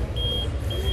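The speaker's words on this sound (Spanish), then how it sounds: "La alarma ya está sonando." A Zontes motorcycle alarm sounds, giving a thin steady high beep that stops briefly and starts again over a low rumbling background, close by, with no talk.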